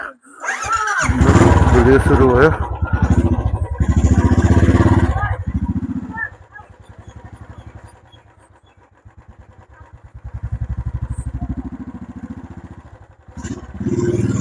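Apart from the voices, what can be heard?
motorcycle starting and riding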